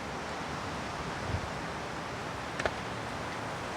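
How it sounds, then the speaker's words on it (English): Broadband wind rushes steadily past the microphone, with a couple of faint brief knocks and no speech. "It's getting pretty windy"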